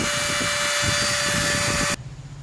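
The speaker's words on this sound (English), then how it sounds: "And this mini grinder is the same." A small power grinder whirs loudly with a steady high whine, then cuts off abruptly, leaving quieter background noise.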